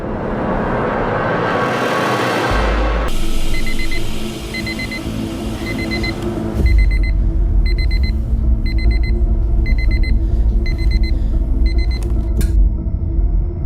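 An alarm clock rings in a home early in the morning, a repeating pulsed beeping that starts partway through and continues steadily over a low rumbling background.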